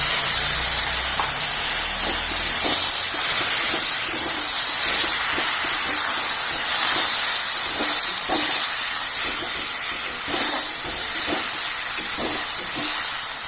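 Rinse water from a grinding stone poured into a hot pan of chicken with ginger, chili and spice paste hisses and steams steadily and loudly, with light crackles throughout.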